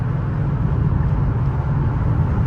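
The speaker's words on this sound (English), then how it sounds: "wind blowing. I just opened sunroof so that y'all can hear" Steady low wind roar through the open sunroof of a Kia Stinger GT driving on the road, a continuous broadband rush with no voices.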